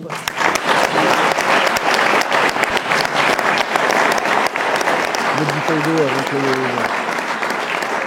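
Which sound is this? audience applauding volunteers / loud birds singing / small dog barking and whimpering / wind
audience applauding volunteers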